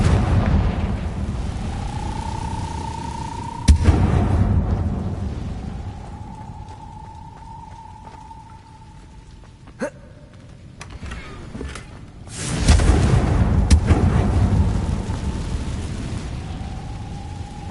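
Confringo spell blasts in the Hogwarts Legacy video game go off in a few heavy booming bursts with sharp cracks, separated by quieter stretches with rumbling tails and faint humming tones.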